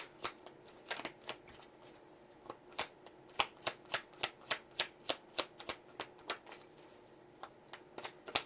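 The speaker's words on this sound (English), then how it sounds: "Not shuffling very well." Tarot cards shuffled by hand, a close, quiet series of crisp riffling snaps, sparse at first and then coming in a fast steady run of about a dozen sharp flicks, with no talk.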